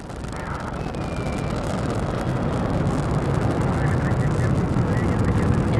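The Soyuz rocket carrying a Progress cargo craft lifts off with a broad, steady roar that slowly builds in loudness, heard from a distance.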